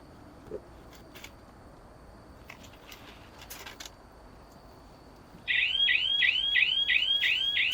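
After a stretch of quiet outdoor ambience with faint bird chirps, a timer alarm set on an IoT outlet in a pear orchard starts up, beeping loud and fast in a repeating warble.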